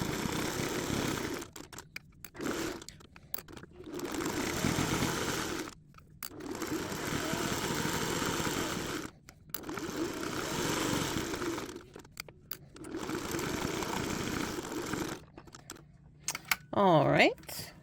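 A sewing machine stitches around the edge of a fabric needlebook in several long, steady whirring runs separated by brief pauses, close by, with a voice briefly at the end.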